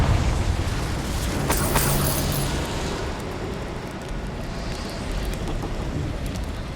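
A Confringo explosion spell in the video game Hogwarts Legacy erupts as a loud, broad blast with a crackling burst near 1.5 to 2 seconds, then rumbles and fades into a sustained noisy roar.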